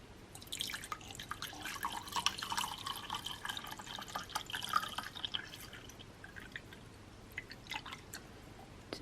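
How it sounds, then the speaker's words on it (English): Water trickles and splashes into small containers, a light crackling pour that continues steadily with brief pauses, close by and fairly quiet. "So now I'm just going to fill all of these up with water."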